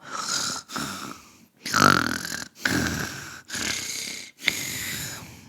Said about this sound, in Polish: Na łące pod wielkim drzewem leżał wilk i dalej chrapał.